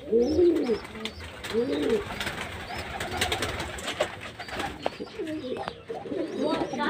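Pigeons in a loft coo close by in repeated soft, throaty rolling calls, with several birds overlapping against a background of wing flutters and shuffling.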